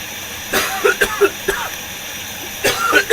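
Several harsh coughs close to the mic, a short burst of hacking followed by a pause and another cluster of coughs.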